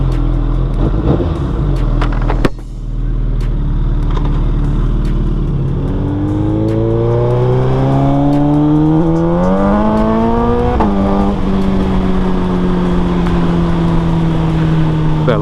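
A 2022 Suzuki Hayabusa motorcycle accelerates hard through several gears, the engine note climbing in repeated rising sweeps with shifts between them, loud and close with steady wind noise throughout.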